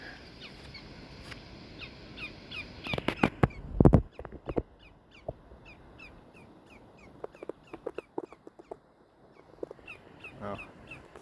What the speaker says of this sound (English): I think this is maybe called a killdeer.